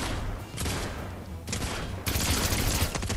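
Pistol fire in the Fortnite video game comes in rapid bursts of loud, close gunshots that intensify toward the end, with no voices over it.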